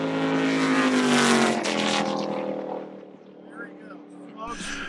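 A 1968 Lola T-160 race car engine revs hard and loud, its rising harmonic whine climbing then easing as it accelerates through turns, close and continuous for most of the stretch before briefly dropping back.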